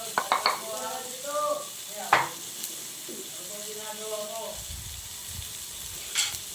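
Garlic sizzles while being sautéed in a pan, with a steady frying hiss under several metallic clinks and scrapes of stirring against the pan.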